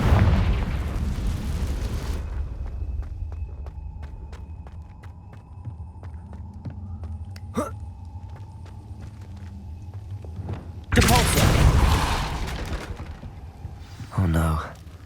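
Confringo blasting spell explosions in Hogwarts Legacy, two loud booming bursts late on, preceded by a low steady hum with faint ticking and throbbing in the background.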